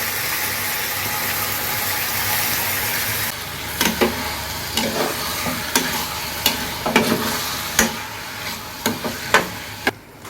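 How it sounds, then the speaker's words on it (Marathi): Prawns fried with masala in a hot pan: a steady sizzle, then sharp, irregular scraping clicks of a utensil stirring against the pan, fairly close and with no talk. "कोळंबी टाकून घेऊया मस्त मसाले पण फ्राय झालेले आहेत"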